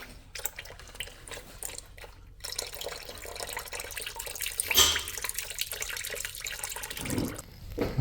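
Motor oil from a Can-Am Maverick X3 XRC Turbo R oil change trickles through a funnel and drips into a puddle, a steady liquid splatter and patter with a few louder splashes.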